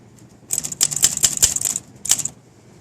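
Light taps on the keys of a maroon 1959 Olympia SM3 manual typewriter set to low tension: a quick run of about seven crisp, close metallic strikes, a pause, then one more.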